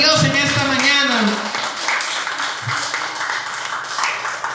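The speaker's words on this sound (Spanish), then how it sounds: "Dale un fuerte aplauso a Dios en esta mañana." A church congregation applauding during a morning service, broad clapping that swells under a preacher's voice and continues steadily at moderate loudness.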